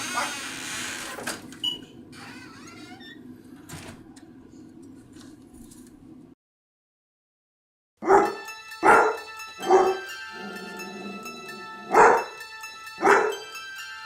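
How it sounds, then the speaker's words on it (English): A dog barks six times in a fairly steady rhythm, loud and close, following an earlier stretch of rustling and clatter and a brief silence. "Did I hear a dog barking?"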